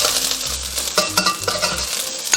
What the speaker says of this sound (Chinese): 再下入一点葱白给它爆香